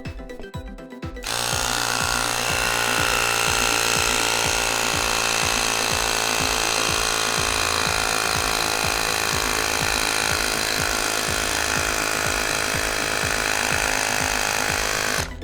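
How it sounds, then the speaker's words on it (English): Air compressor inflating the rear inner tube of a Razor Dirt Rocket MX350 to 45 psi, a loud steady mechanical drone with rapid regular pulsing that starts abruptly after a brief pause and runs continuously, no voices. "let's go ahead and inflate to 45 psi."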